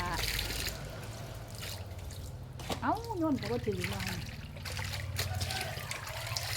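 Water flows and trickles steadily from a tap or hose while clothes are being washed. The continuous wash of the water runs beneath a person talking in Thai throughout.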